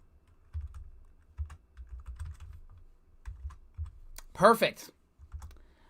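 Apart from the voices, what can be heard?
typing on a computer keyboard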